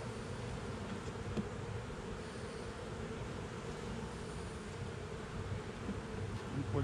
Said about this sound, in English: There's a lot of bees down there.